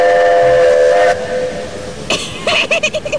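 A steam train whistle on a children's programme blows a loud, sustained tonal blast, breaks off, and is followed by a short run of quick chuffing bursts, close and with no talk.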